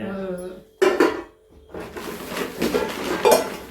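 Metal cake tins, square and round baking pans of several sizes, clatter and clink as they are handled close by, with a few sharp knocks separated by short pauses.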